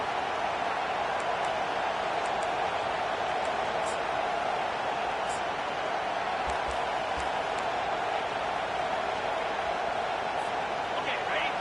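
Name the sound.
loud football stadium crowd cheering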